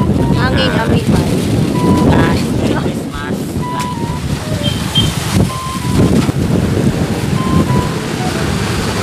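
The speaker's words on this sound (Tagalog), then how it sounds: "Malakas nga yung hangin, dala ng hangin amihan." Strong northeast monsoon wind buffets the microphone in a constant roar on Christmas Day, with a boat and water sounds underneath and a few faint distant tones.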